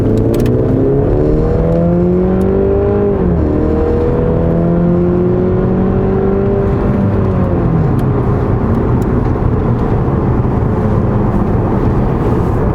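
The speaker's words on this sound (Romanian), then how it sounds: "Și acum să vedem și noi cum se mișcă mașina asta în sport." A Mercedes car in sport mode accelerates hard, its engine note climbing in repeated sweeping revs with gear changes, loud and close throughout with no talking.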